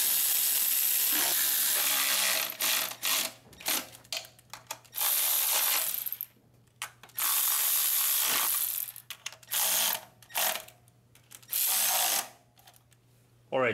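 A ratchet wrench clicks in rapid bursts while tightening valve cover bolts on a Toyota Highlander engine, close and fairly loud, with short pauses between runs of pawl clatter and a low steady hum underneath.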